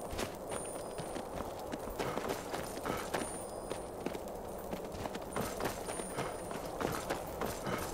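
A goat runs off across rocky mountain ground in the video game Skyrim, its hooves making rapid, fairly soft clattering steps over a constant windy background, with no talk.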